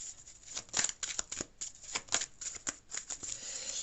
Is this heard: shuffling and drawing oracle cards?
yes